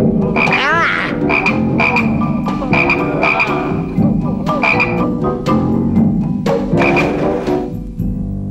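Toads croak loudly and repeatedly in a dense, overlapping chorus during a plague of toads, the rhythmic calls pulsing close by throughout with no voices.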